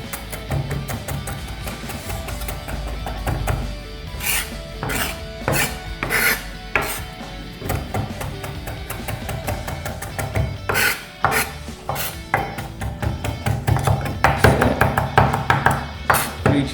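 A knife finely chopping fresh coriander on a wooden cutting board, with steady rapid rasping strokes that come in bursts of quick taps, close and moderately loud, and no talking.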